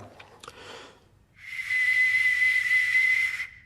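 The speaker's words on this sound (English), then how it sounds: "it'll probably still whistle quite well" A few soft taps and a whoosh, then a sustained, piercing high whistle lasting about two seconds, airy and hissing, from an arrow with an ancient bronze whistling arrowhead flying past.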